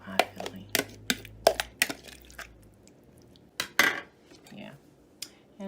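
A metal pie pan is handled while apple pie filling is made, giving a series of sharp clinks and taps spaced irregularly over several seconds, close and fairly loud, with no talking.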